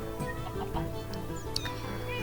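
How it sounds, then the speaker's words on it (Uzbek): A baby chicken in the video game Minecraft gives a few soft, high clucks and chirps over a steady background hum, fairly faint and spaced out. "Endi bizda kichkina jo'ja ham bor."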